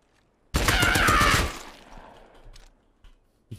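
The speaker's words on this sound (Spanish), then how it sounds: "Vale, me dispara." A loud, sustained burst of rapid gunfire in the survival video game Rust, close and dense for about a second before trailing off into quieter rumble and faint clicks.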